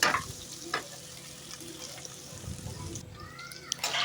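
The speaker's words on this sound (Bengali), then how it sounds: "এবার আমি খুব ভালোভাবে এটা ভেজে নেব" Chopped potato, capsicum and chili frying in a pan for a spicy semolina dish, with a steady sizzle and occasional stirring scrapes and clinks, close and moderately loud, with no voices.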